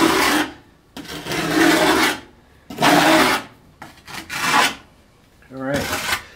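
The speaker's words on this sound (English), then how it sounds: "So just go ahead and make a little bit of a scrape up here." Repeated rasping scrapes along the top of a Schluter preformed foam shower base near the curb, four or five strokes in an uneven rhythm, loud and close, with a brief voiced sound at the end.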